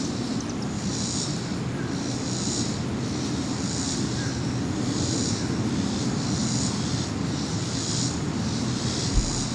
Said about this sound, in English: Something else is flying around here. I can hear it.